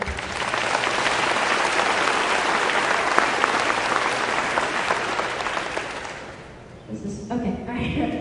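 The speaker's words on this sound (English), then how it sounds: "So if we can give them a big hand as well." Audience applause at a charity ride event for children: dense, loud clapping from a crowd goes on for about six seconds, then thins out and fades as talking takes over.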